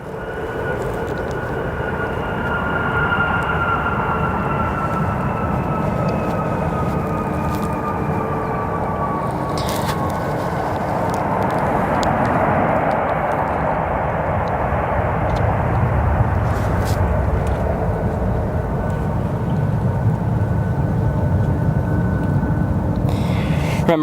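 Arriving airliners, including United, Alaska and American jets, at Chicago O'Hare airport make a steady, broad roar that rises slightly midway, with faint descending engine whine and no talk.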